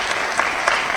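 A short burst of audience clapping at the closing of an annual general meeting of health commodities manufacturers and suppliers, a thick continuous patter of many hands throughout.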